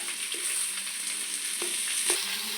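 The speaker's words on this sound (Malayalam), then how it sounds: "സവോള ഇട്ട് കൊടുക്കാം നന്നായിട്ടൊന്ന് വഴണ്ടി വരുമ്പോഴത്തേക്ക്" Sliced onions sauté in hot oil for a chicken curry, giving a constant close sizzle with a couple of soft spatula clicks and stirs, no voices.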